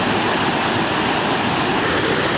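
Swollen mountain river at high water near a hot-spring gorge in autumn, giving a steady, loud broadband rush of flowing water that fills the whole stretch without pause.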